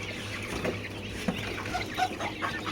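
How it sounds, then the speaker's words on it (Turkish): Fifteen-day-old quails chirp and call in a farm pen, with several short, scattered peeps over a steady background hum, close but fairly soft. "Burada da bir 15 günlük bıldırcınlarımız var."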